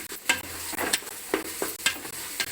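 Coriander and masala being sautéed in a pan for seeragasamba chicken biryani produce a steady sizzle broken by rhythmic scraping stirs, about one every half second, close and moderately loud.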